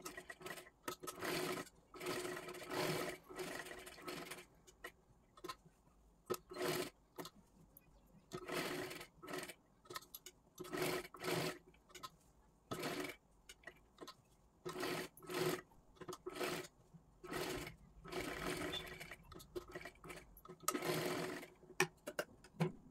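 Bursts of sewing machine stitching along a blouse neckline, repeated runs of fast mechanical whirring separated by short pauses, close and fairly quiet.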